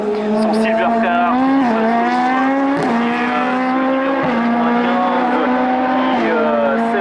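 Sports race car, a Silver Car at the Hébecrevon national hill climb, screams past with a loud, sustained high-revving engine note through quick gear changes. It stays close and dominant while a commentator talks over it.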